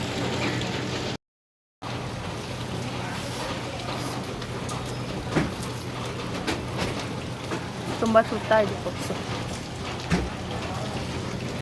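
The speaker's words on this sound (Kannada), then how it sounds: "ಮಳೆ ಬೇರೆ ತುಂಬ ಬರ್ತಾ ಇದೆ." Heavy rain falls outside a bakery as a steady, dense hiss with scattered drip taps throughout, while people talk nearby.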